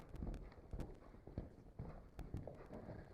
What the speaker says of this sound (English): Get her up to a canter.